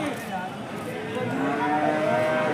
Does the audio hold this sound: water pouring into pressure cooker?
no